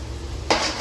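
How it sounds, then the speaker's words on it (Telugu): Fish pieces are mixed by hand with turmeric and chili powder in a bowl, with a brief, close squelch and scrape as the mixing starts. "చూడండి ఎలా మిక్స్ చేస్తాము పసుపు కారం అనేది."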